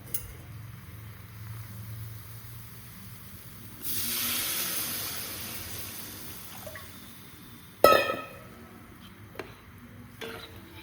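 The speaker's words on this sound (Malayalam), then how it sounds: "വെള്ളം ചേർത്ത് കൊടുക്കാം." Water is poured into a hot pan of Kerala-style tuna curry soured with kudampuli, setting off a loud rushing hiss of steam for a couple of seconds that fades to a quiet simmer, broken by a sharp metallic clank.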